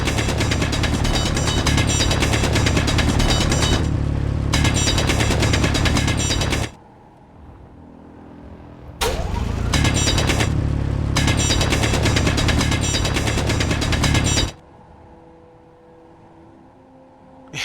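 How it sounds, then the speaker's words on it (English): In Space Engineers, a mining drill grinds in long, loud bursts of dense buzzing rattle that stop and restart. Quiet gaps between bursts carry a low hum, with no speech. "that's this drill making short work of it"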